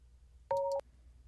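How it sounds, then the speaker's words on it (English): An incoming video chat call rings once, a brief clean electronic two-tone chime sounding alone over faint background hiss. "I hear the ringing sound"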